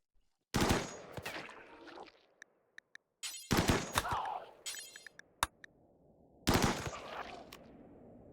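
Video game gunfire from an Ace Gunner in a dark silo: three loud, close bursts of rapid shots with single cracks between them and a short silence in the middle, while someone talks.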